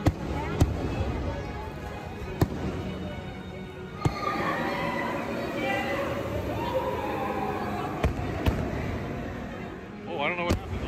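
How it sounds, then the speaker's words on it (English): Sharp firework bangs pop at irregular intervals, some distant, heard from the TRON roller coaster, over a crowd murmuring and a voice speaking nearby. "get some good fireworks shots right here"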